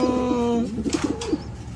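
Pigeons returning to their spot give a few soft, low rounded coos in a short close series, over a steady tonal hum in the first half.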